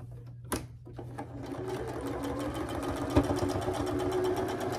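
Sewing machine stitching a quarter-inch seam on a quilt block: a few brief starts, then a fast, even run of needle strokes up close, steady and loud.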